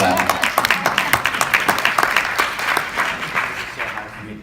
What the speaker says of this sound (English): That was worth a clap, wasn't it?